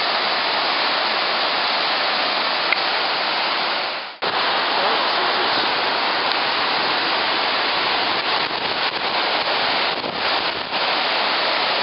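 Loud, continuous rushing water roars steadily at Niagara Falls, the river at half its usual volume, with a brief dip in the noise partway through.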